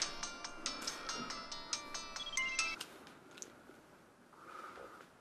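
A phone ringtone chimes in a Korean TV drama, a bright repeating electronic melody of quick tones for a few seconds, then breaking off, leaving quiet rustling and faint handling noise.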